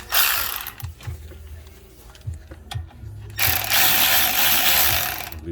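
A ratchet wrench tightens the brake caliper bolts on a 2014 Chevy Equinox, with clicking pawl bursts in short strokes, close and fairly loud, between pauses and brief handling noises.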